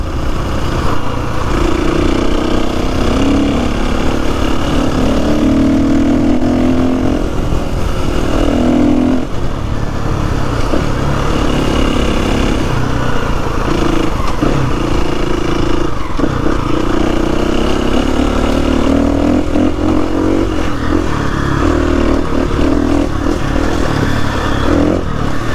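KTM 350 EXCF dirt bike being ridden along country lanes: loud, continuous engine drone with shifting revs and gear changes, near and unbroken for the whole stretch, no talk.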